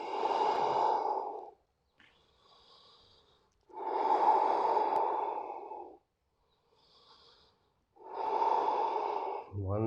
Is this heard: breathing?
yes